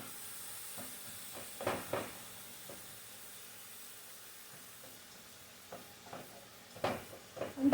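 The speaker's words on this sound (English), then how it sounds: "I'm just mushing the tomatoes up." Tomatoes mushed in a hot oiled pan for a Nigerian plantain and vegetable dish, a faint steady sizzle broken by a few soft scraping, squelching stirs near the end.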